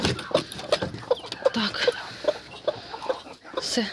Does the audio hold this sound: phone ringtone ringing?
no